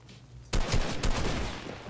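Rapid automatic gunfire in the video game Fortnite, a quiet half-second lead-in then a dense, loud stream of shots with a few sharper bursts.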